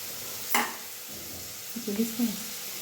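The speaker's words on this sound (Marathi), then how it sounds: "कांदा भाजतोय ना" Onion fries in a pan for a bitter gourd dish, giving a low sizzle with a sharp utensil clank early on and a few stirring scrapes, while a voice briefly speaks.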